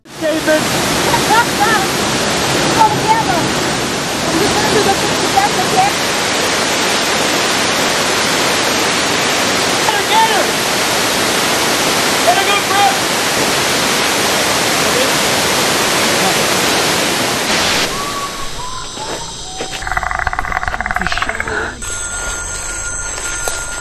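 A rushing river in the Amazon forest roars as a dense, steady wash of broadband water noise, loud and continuous, dropping away abruptly near the end.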